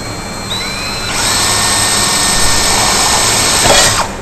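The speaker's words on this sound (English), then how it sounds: "And drill the rest of the hole." An electric drill bores a hole while fitting an external quad spouting angle, its motor whining loud and close for about three seconds after a brief start, then cutting out abruptly.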